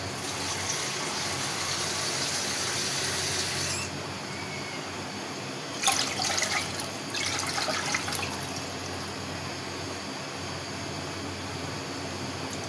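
Water gushes into a cooking pot of lentils in a steady pour, close and fairly loud, then changes to a splashier, uneven flow before settling again.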